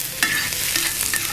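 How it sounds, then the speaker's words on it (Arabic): Onion sautés in hot oil and ghee in a pan, making a close, steady sizzle with a few scraping stirs and no voices. "خلاص البصلة بدأت تتشوح وتدبل معايا"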